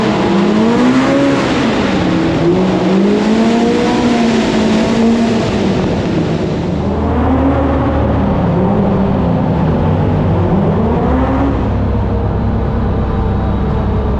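A Can-Am Maverick X3 Pro R off-road vehicle with a slip-on exhaust revs loudly and raspily up and down repeatedly, pitch rising and falling in sweeps, echoing inside a tunnel.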